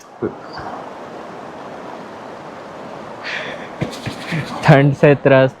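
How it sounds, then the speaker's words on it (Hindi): A clear, freshly flowing river in Yumthang Valley, North Sikkim, gives a steady broadband rush throughout, with people talking over it toward the end. "हम लोग आ गए रिवर के पास और ये रही रिवर, नाइस फ्लोइंग फ्रेशली"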